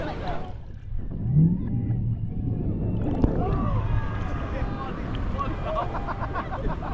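Waves and churned seawater wash at a Grand Turk beach as a boat pushes the water nearby, a steady rushing surge with wind buffeting the microphone and people talking over it.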